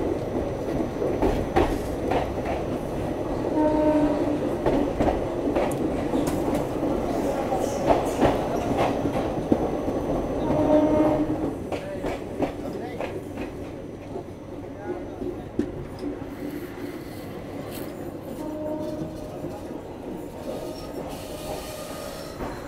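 The Vibhuti Express passenger train running on rails in Bihar, a steady rumble of wheels and carriages with rhythmic clatter and occasional squeals, heard from inside with faint voices in the background.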